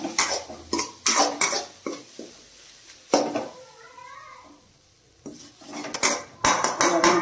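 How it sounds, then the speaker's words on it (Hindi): Semolina filling and ghee are stirred in a pan on a low flame, a spoon scraping and clinking against the metal in bursts, with a cat meowing briefly in the middle. "गैस को लो फ्लेम रे स्टार्ट करके पूरटी को भल भाव घी एंड पूर को भल भाव मिक्स करी आम फ्राई करदबा।"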